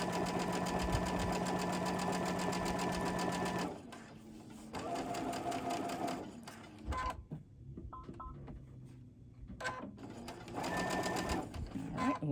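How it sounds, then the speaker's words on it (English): A sewing machine stitches fabric in a quilting studio, whirring steadily and close by in long runs that stop and restart, with brief pauses and faint tapping between stitching bursts. "And I will sew it from the top to the bottom."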